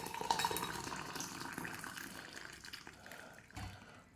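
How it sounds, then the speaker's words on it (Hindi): Hot water is poured and mixed into green tea in a jug, a steady close liquid trickle and swirl with light stirring sounds, no talk over it. "और इसमें अब हम लोग दोस्तों गर्म पानी डालेंगे।"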